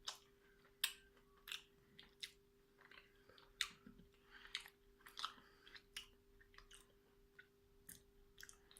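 Close, quiet chewing of a firm Nestlé White Lion chocolate bar, with a steady series of crisp crunching bites and jaw clicks repeating about every half second, and no talk.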